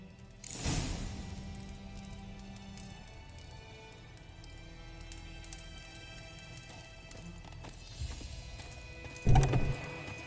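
Horse hooves clopping under a rider in The Witcher 3, a steady muffled gallop rhythm in the low end running through most of the stretch, with a louder thump near the end.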